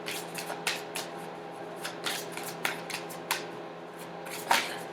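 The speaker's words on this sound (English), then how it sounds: "So I'm just pulling some more tarot here." Tarot cards being shuffled and pulled, a series of crisp papery riffles and slaps in irregular bursts, close and clear with quiet room hum and no talk.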